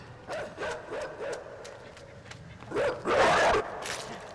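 A dog in the video game INSIDE barks while hunting the player, giving a run of several sharp, evenly spaced barks followed by a louder, rougher burst near the end, with some faint footstep-like patter.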